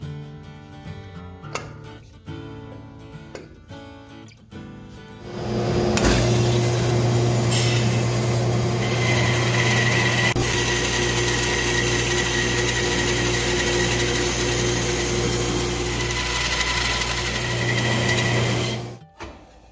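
A table saw fitted with a sled cuts through a wooden acoustic guitar headplate, a loud sustained whine starting after a few seconds of lighter workshop noises and running steadily before stopping abruptly.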